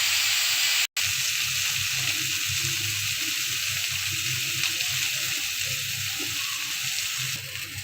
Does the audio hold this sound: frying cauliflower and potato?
yes